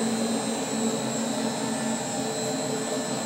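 Steady rushing airflow through a K&N motorcycle air filter, part KA1010, mounted on an air flow bench, replacing a stock Kawasaki Z/Versys filter; a loud, constant roar with a fixed whine, unbroken and with no one talking.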